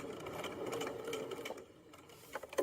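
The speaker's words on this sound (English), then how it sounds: "I'm going to sew right back on top of the same seam" A home sewing machine stitches over an existing seam on a fabric drawstring backpack casing, a quick steady whirring run of needle strokes that slows and stops near the end, quiet and close.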